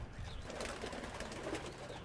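Racing pigeons coo and shuffle inside their loft in Spring Hill, Florida, with soft, steady murmuring calls and faint rustling close by and no talking.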